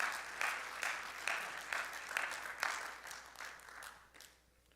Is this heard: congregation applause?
yes